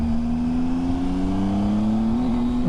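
A Triumph Tiger 800 XCa motorcycle engine pulls steadily under throttle on a ride across Dartmoor, a loud, continuous droning tone that rises gradually before dipping and climbing again near the end, with wind rush underneath.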